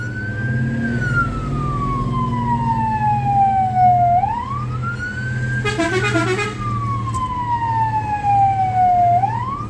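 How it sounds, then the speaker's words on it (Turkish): Fire engine siren wails in long, slow rising and falling sweeps, loud and near, over a steady diesel engine rumble during a run to a grass fire, with a brief burst of rapid yelping tones midway. "Sol şeritteki araç sürücüleri kontrol şekilde itfaiye aracını yol açın"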